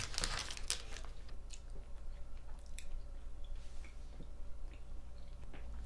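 Close-up chewing of a small pink and white sweet, with soft crunches and moist squishing at a steady pace, quiet and without talk.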